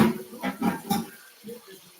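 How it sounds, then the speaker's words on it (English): Warm milk poured into cooked potatoes in a kitchen, a few soft liquid splashes and gurgles in short bursts, fairly quiet and close. "I pour the warm milk."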